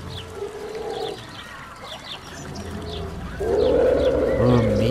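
Soft bird chirps and coos from the video game Cities: Skylines repeat over a murmuring background, with a louder squawking burst near the end.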